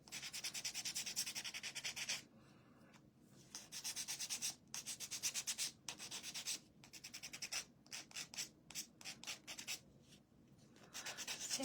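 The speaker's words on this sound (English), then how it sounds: "And we're gonna sand this up." Wooden strawberry tag being sanded by hand, a steady gritty rubbing in bursts, then quicker short strokes with brief pauses between them, close and fairly loud with no talking.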